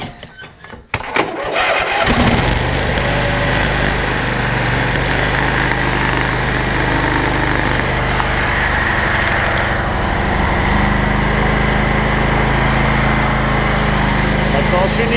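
A John Deere L120 snow blower engine cranks briefly, catches and then runs at a loud steady idle close by in cold weather.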